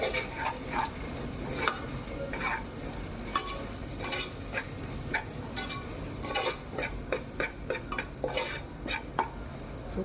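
Masala sizzles and fries in oil in a pan for ghee chicken gravy, with steady crackling and frequent sharp stirring scrapes and clinks of a spoon against the metal pan, close and continuous throughout.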